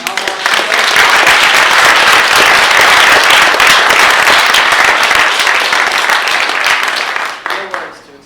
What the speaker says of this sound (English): Please give another round of applause to Boston University